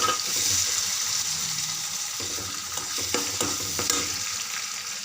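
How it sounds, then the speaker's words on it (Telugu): Ginger garlic paste frying in a hot pan, a steady close sizzle with a few scraping stirs of a spatula partway through, no talk. "పచ్చివాసన పోయినాక అల్లం వెల్లుల్లి పేస్ట్ వేసుకున్నాం"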